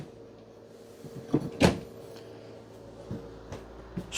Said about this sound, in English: you have full extending ball bearing drawer guided drawers